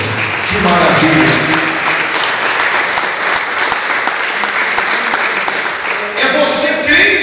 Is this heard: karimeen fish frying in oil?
no